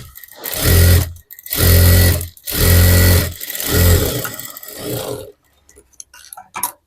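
Electric sewing machine stitching the back piece of a blouse with canvas attached, running in four loud, even bursts of rapid stitching separated by short pauses, then a few faint clicks.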